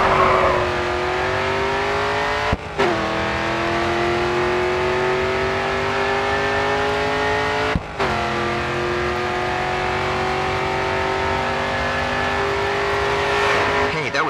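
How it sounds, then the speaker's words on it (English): In the GRID 2 racing video game, a race car runs at full throttle down the final straight with a loud, sustained engine whine climbing in pitch, broken by two quick gear shifts. "full throttle now, coming onto the final straight"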